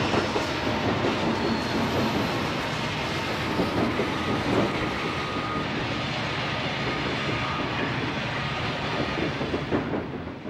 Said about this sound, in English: Led by SP's GP35 number 6521, is an eastbound heading to the next crew change at Yuma, Arizona.